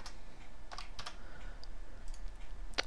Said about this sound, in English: So we're just going to type read.